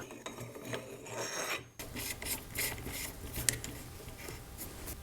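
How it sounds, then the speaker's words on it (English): A steel armorer's wrench working loose the castle nut on a rifle buffer tube, giving a close, steady scraping and grinding rasp with a couple of sharper clicks, heard on its own. "Now you can use the armorer's wrench to loosen the castle nut."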